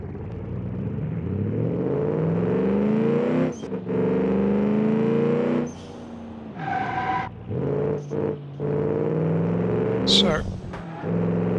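A 900-horsepower sports car in the Automation racing game, its engine droning loud and steady as it accelerates and shifts, with brief drops and a short high screech near the end.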